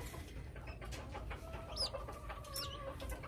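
A rooster on a homestead gives a few soft clucks and short calls at close range over a low outdoor background hum, with no talking.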